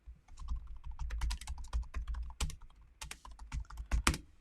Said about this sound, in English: And we've got the ability to type here.